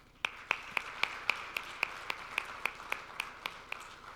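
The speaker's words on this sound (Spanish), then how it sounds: "Un aplauso para todos." Clapping at a medical education conference comes as a sparse, evenly spaced run of about fifteen crisp claps from one or a few people, close and moderately loud, with no crowd roar behind them.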